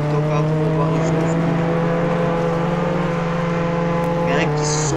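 A car engine in a video game holds a steady, loud droning hum with a constant pitch throughout, a continuous motor tone that barely changes, with a short higher blip near the end.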